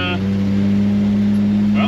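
A 1966 Chevy Biscayne with an exhaust leak runs steadily, its engine drone loud and close with a strong low hum and no talk over it.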